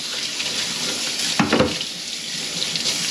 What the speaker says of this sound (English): let me go ahead and take it to the sink, rinse it